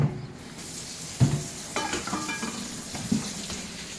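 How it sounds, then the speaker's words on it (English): Rice being washed in water in a home kitchen, with a few splashy swishes and knocks against the pot, close and fairly quiet, no talking. "I wash my rice."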